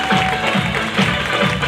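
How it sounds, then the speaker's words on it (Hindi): A crowd claps steadily and rhythmically for a leader at a political speech gathering in Tatanagar, the applause dense and close for under two seconds. "सर के लिए जोधा ताली"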